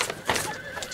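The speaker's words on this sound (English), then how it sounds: "The horses are out of control." A horse whinnies in a short, loud burst, with a second neigh faintly following, amid a tense period-drama scene set in the Dutch East Indies during the 1883 Krakatoa eruption.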